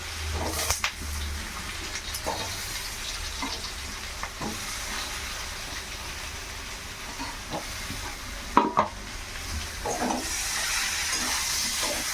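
Turmeric and chili fry in a pan with a soft, steady sizzle. Scattered stirring scrapes and a sharper clink stand out, fairly quiet and with no talking.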